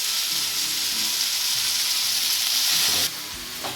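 Chicken Afghani roasts slowly in a pan over a low flame, giving off a steady, soft sizzling hiss that holds evenly before dropping suddenly near the end.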